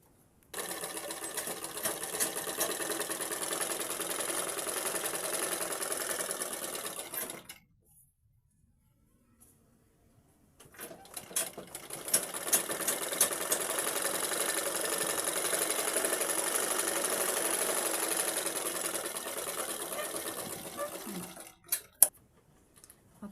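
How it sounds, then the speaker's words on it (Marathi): A sewing machine stitches around all sides of a piece of fabric in two long, steady bursts of fast, continuous whirring and clatter, close and clear, separated by a few seconds of silence and ending with a couple of clicks. "आता हे आपण अशी चहू बाजूनं शिलाई मारून घेऊ"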